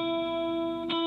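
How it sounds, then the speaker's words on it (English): Electric nylon-string guitar drenched in heavy reverb, a sustained wet chord ringing steadily with a faint brighter pluck near the end, no voice present. "I put a lot of reverb on my electric nylon string guitar"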